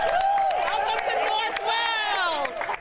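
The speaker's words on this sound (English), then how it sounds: "These Northwell Health nurses took a moment to cheer today" Northwell Health nurses cheering and whooping together to welcome arriving travel nurses during the COVID-19 crisis, a dense, bright crowd of voices sustained throughout at close range.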